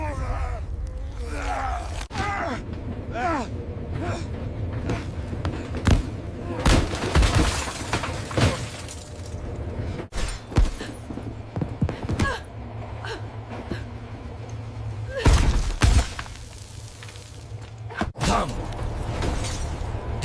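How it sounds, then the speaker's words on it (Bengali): In an audio drama, a device is smashed during a struggle aboard a train, with sharp shattering and breaking crashes, whooshes, groans and gasps among dramatic voices and a low rumbling score. "ডিভাইসটা ভেঙে গেল।"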